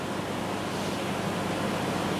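A voice imitates rushing water or a cheering crowd with a steady, even hiss of breathy noise held for a couple of seconds at moderate volume.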